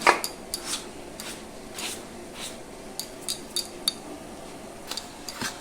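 Salt worked into rice flour in a bowl: faint, sparse clinks and light scrapes of a utensil against the bowl, close by, with quiet pauses between strokes.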